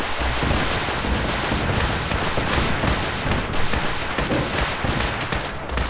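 Dense gunfire in the video game Fallout 4 during a castle defense battle, rapid overlapping shots and bursts loud and continuous throughout with no talk.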